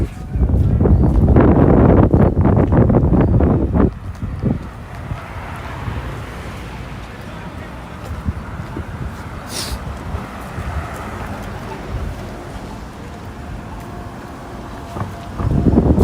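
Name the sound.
cold wind blowing outdoors in downtown Toronto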